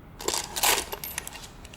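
A collector handles coins among silver items, sending a short burst of bright metallic clinks and jingles as they are dropped and shuffled close by, with no talk over them.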